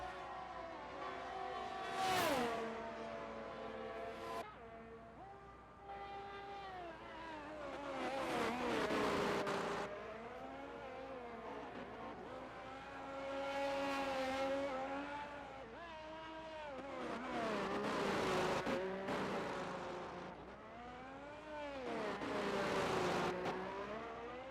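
Racing cars lapping a Miami test track, engines rising and falling as they accelerate and pass in repeated swells, loud revving tones sweeping up and down with faint tire noise between passes.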